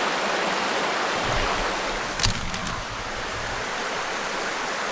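Steady rushing water of a stream tumbling over small falls, a constant broadband wash with no voices.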